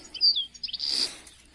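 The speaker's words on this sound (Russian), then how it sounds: "Вот, вроде бы неплохая птица" A small songbird such as a goldfinch, greenfinch or linnet, just taken from a three-metre mist net in a forest, gives a few quick high chirps close by, with no talking.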